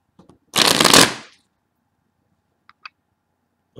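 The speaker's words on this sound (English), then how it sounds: "Let me shuffle it one more time." A single brisk riffle of shuffled tarot cards, loud and close, followed by a few faint clicks and taps in a quiet room.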